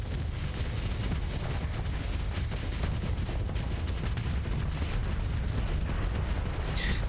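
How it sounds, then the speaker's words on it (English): Torpedoes launch and detonate during a space battle in the game Starsector, run with the Nexerelin mod. A dense, continuous roar of rumbling blasts and explosions stays loud throughout, with no talk heard. "Torpedoes away."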